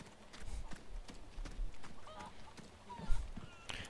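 Chickens in the Resident Evil 4 Remake village give a few faint, scattered clucks against game ambience, with footstep-like thuds and scuffs throughout.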